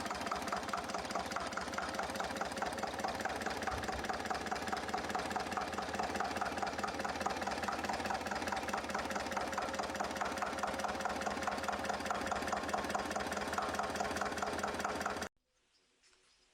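A Slavia 2S95A2 single-cylinder diesel engine runs at a steady idle, close and loud with a fast, regular knocking beat for about fifteen seconds before cutting off abruptly into near silence.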